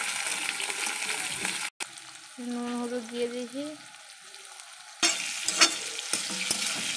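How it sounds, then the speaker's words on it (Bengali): Sliced potatoes fry in hot oil in a wok after salt and turmeric go in, giving a steady close sizzle that runs under a woman's brief speech and picks up again afterward. "এখানে আমাদের আলু ভাজা হচ্ছে"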